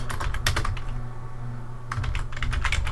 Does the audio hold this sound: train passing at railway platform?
no